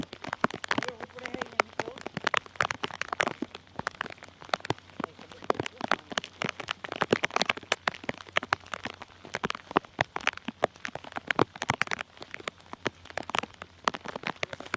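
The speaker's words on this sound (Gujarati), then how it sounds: "વરસાદ જ એટલો પડી ગયો" Heavy rain pours steadily and loudly, dense patter drumming on surfaces throughout with no break.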